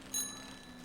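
A bicycle bell in the video game SEASON gives one bright, clear ring near the start, then fades into a quiet ambient background with no talking.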